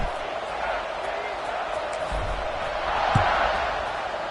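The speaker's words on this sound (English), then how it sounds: "this crowd is buzzing after that last score" A college football crowd buzzes in a stadium after a score, a broad continuous murmur of many voices that swells slightly toward the end, with an announcer talking over it.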